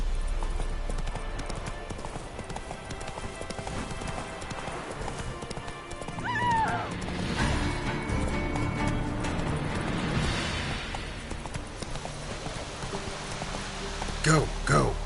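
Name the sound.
horse Roach galloping hooves in video game The Witcher 3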